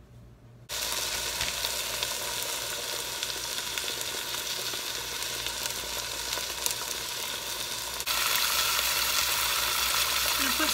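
Olive oil sizzles in a hot Dutch oven, a steady bright crackling hiss that runs the whole time and grows slightly louder near the end, with no voices.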